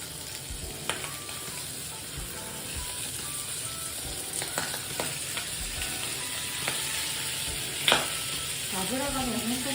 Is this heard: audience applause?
no